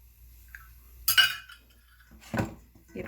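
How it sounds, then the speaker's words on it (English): Seasoned chicken for a roti curry being mixed in a bowl, with a few separate clinks and scraping knocks of a utensil against the dish, close and intermittent amid near silence. "give that a good mix"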